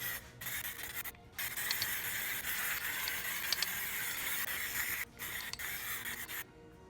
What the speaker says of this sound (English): Third and final coat of clear.